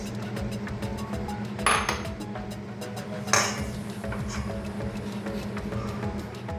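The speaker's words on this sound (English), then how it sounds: "Now we add the milk and continue to whisk it." Chocolate cake batter being whisked after milk is added, giving steady close scraping and tapping of a whisk against a bowl, with a couple of sharper clinks standing out.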